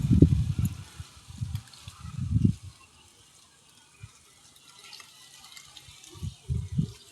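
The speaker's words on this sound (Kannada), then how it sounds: "ಒಂದು ಬಟ್ಟಲ್ದಾಗ ನೀರು ಹಾಕಿ ನೋಡಬೇಕು." Water is poured into a small bowl in the kitchen, giving soft low gurgling splashes in several short bursts separated by quiet gaps, close and moderately loud.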